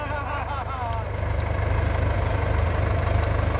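A Ford 6600 farm tractor idles with a low, constant rumble that grows slightly louder partway through, with faint voices briefly audible at the start.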